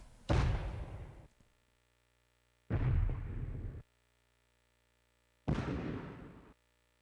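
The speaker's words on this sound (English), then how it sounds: "Explosion." Three separate explosions from a PS2 video game demo, each a loud booming burst that decays over about a second, spaced a few seconds apart with silence in between.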